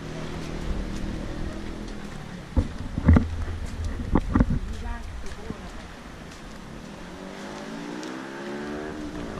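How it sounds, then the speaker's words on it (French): Mopeds and motorcycles pass together along a road at San Stefano on the Italian Riviera, a rumbling, rising engine roar with a louder surge midway, then a lingering hum under faint voices. "Mobilette, moto, tout ensemble."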